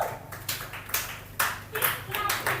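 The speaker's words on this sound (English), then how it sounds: "See, you are just clapping for her like this." An audience claps at a sales event in scattered, uneven bursts, with an amplified voice speaking over the applause.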